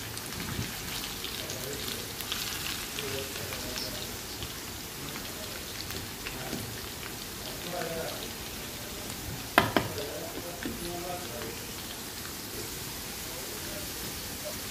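Sliced, washed potatoes fry in hot oil with a dense crackling patter, steady and fairly soft, broken by one sharp clatter near the end.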